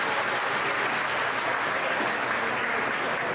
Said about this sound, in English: Everyone, let's give him a round of applause.